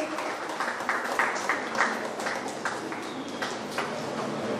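An audience at a student felicitation program in Chiplun claps for a student, a steady, dense patter of many hands that continues evenly throughout at moderate loudness.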